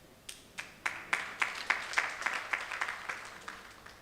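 A live audience at a law partners' event breaks into applause, a steady run of sharp claps building over about four seconds at moderate distance, with no talking on top.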